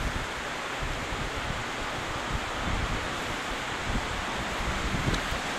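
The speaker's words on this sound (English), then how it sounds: "So here we have the gushing water" Steady roaring rush of gushing water at a waterfall on an outdoor walk, a dense continuous wash of noise that stays constant throughout with no voices.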